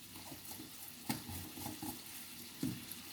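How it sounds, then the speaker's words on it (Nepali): Spoon stirring chicken curry with mixed masala and cooked-down tomato in a pan, a soft sizzle throughout with two sharper scraping clanks about a second and a half apart. "र यसलाई मैले चलाएँ"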